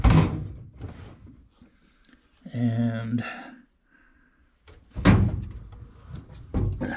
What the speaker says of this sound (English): Oh, a heavy drawer.